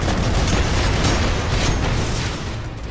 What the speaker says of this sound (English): I think the salvo core might be one of my favourite weapons that you can have as your big finale